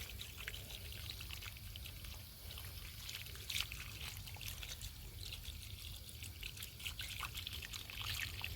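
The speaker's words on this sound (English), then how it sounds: "So let's just rinse this all this dirt off." Water trickles and pours steadily over plant roots, washing away dirt from the root system of a potted plant, a close, continuous, faint splashing with no voices.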